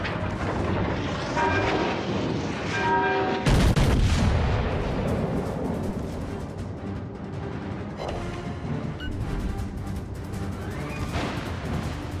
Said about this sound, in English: fire on the enemy warship, like the Kraken's tentacles closing in.